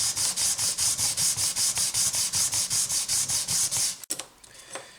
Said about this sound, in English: and continue the sanding